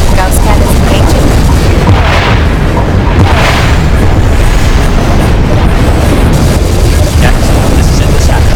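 Cannons fire without pause in a space battle video game, a dense, very loud barrage of booms and blasts rolling together for the whole stretch.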